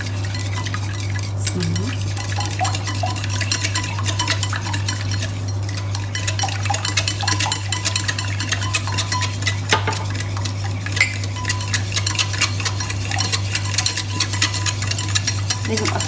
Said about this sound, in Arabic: هنستخدم المضرب هو وهخلطهم كويس جدا كده مع بعض، الفانيليا والبيض